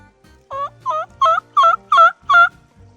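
Wild turkey hen calling in the woods, a run of six loud, evenly spaced raspy yelps, close and clear with no talking.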